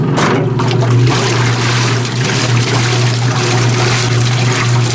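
A loud, constant motor hum of an antique Maytag wringer washer's pump with water sloshing and churning steadily throughout, no pauses.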